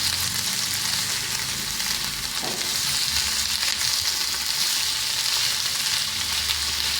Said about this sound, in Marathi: नंतर जो आपला तांदूळ मी धुवून घेतला होता तो आता त्याच्यामध्ये टाकते आणि तो पण चांगला त्या भाज्यांबरोबर मिक्स करून घेते